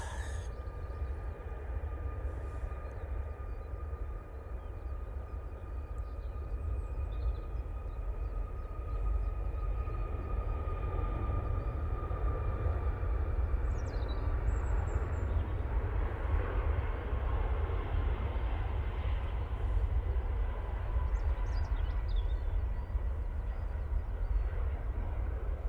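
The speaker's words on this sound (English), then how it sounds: "Ryanair now on the roll" Distant Ryanair airliner on its takeoff roll at Manchester Airport, a low steady engine roar with faint whining tones that gradually swells louder as it accelerates.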